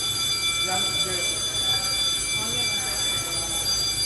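A smoke alarm goes off indoors while samgyupsal is being cooked, giving a steady high-pitched electronic tone that persists throughout. Murmuring voices and room noise sit underneath.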